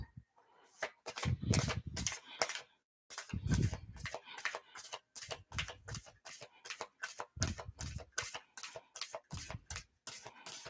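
Rapid, rhythmic slapping and riffling of tarot cards being shuffled close up, a steady series of crisp ticks with brief breaks.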